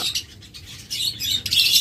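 A pair of yellow Fischer's red-eye lovebirds gives rapid, high chirping calls in short bursts, fairly close and clear, with no talking.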